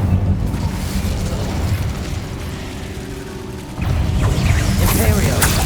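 Fire spell cast in Hogwarts Legacy, a dense whooshing roar of flames with crackling bursts that swells louder partway through, layered over game effects.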